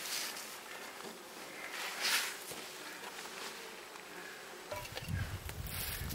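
Honey bees buzz steadily around a hive, a soft droning hum with occasional louder passes and some handling noise near the end.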